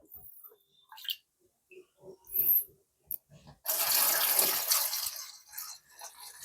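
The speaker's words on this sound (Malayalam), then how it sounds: "അപ്പൊ ഫ്രണ്ട്സ് നമുക്ക് വെള്ളം ഒഴിച്ചു കൊടുക്കാം." Water is poured slowly into a planted aquarium tank, a steady broadband splashing rush that starts partway through and continues to the end, preceded by scattered small handling knocks.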